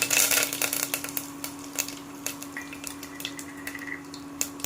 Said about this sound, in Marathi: तेल गरम झाले, यामध्ये अर्धा चमचा मोहरी टाकून घ्यायची। मोहरी तडतडली की जिरं टाकून घ्यायचे